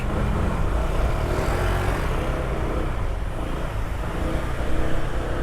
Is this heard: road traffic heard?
yes